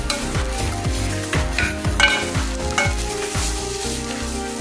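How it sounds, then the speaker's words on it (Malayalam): Ginger and garlic fry with coconut in a pan for Kerala-style coconut chutney powder, a steady loud sizzle broken by regular, rhythmic scraping strokes of stirring, with no voices. "ഇനി നമുക്ക് ഇഞ്ചിയും വെളുത്തുള്ളിയും ഇടാം."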